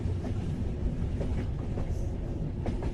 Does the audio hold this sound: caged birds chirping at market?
no